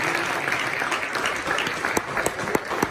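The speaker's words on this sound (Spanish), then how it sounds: "yo quiero que le dé las palmas a la palabra y se ponga de pie." A church congregation applauds at a worship service, a dense, steady clapping from many hands with a few sharper individual claps standing out toward the end.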